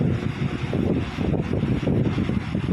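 A steady, broadband whoosh of air from a fan blowing close to the microphone, constant and fairly loud throughout.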